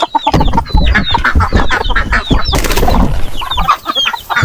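Farm chickens and chicks clucking and peeping under bamboo, loud and close, a dense overlapping chorus of clucks and high chirps with a burst of rustling partway through.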